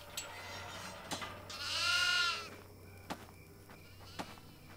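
Video-game goats bleat from inside a cage: one long, wavering bleat rises clearly over a steady low hum, and sharp clicks or knocks sound before and after it, with no talking.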